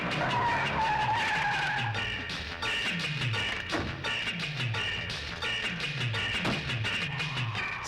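A car drives off with a loud, continuous engine roar and repeated skidding sweeps that rise and fall every second or so, with no voices.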